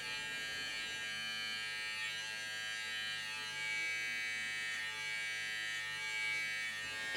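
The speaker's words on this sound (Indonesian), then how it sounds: "menggunakan clipper dengan sepatu clipper nomor 1, posisi tuas terbuka" Electric hair clipper fitted with a number 1 guard, lever open, buzzing steadily and close up as it cuts hair, a continuous motor whine with slight shifts in pitch as it moves through the hair.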